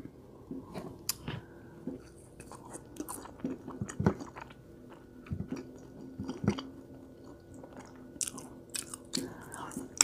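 Close, wet chewing and biting of McDonald's food dipped in honey mustard, in irregular mouthfuls with soft crunches and smacks over roughly ten seconds, with faint background noise.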